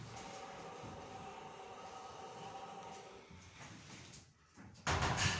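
Lift doors at Chichester railway station slide shut over a steady hum of machinery, ending in a brief lull and then a louder burst of noise.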